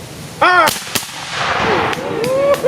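Reenactors' rifles go off together in a single sharp, loud volley at a historical reenactment at Fort Harker, right after a shouted command, followed by a quick echoing report and faint voices in the background.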